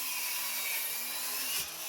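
Mitre saw slicing through a 9¼-inch board, heard as a close, continuous high-pitched grinding whine that dips slightly near the end.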